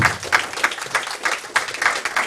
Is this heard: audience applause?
yes